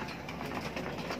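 Hungry pigeons coo softly in a loft at feeding time, a faint, steady murmur of bird calls with no other sound standing out.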